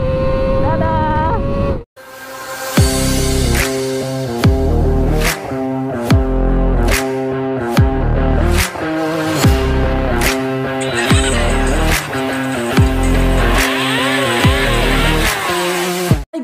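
A Yamaha R25 motorcycle revs hard at full throttle, its high-pitched engine climbing through several loud, near upshifts, each marked by a brief dip before the whine builds again. Wind rush runs underneath.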